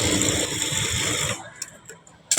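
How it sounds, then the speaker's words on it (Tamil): A sewing machine stitches a blouse belt at a half-inch seam with a rapid, steady mechanical whir that stops abruptly, leaving a few faint clicks and handling sounds close by. "1/2 இன்ச்சில் வந்து ஒரு தையல் போட்டுக்கலாம்."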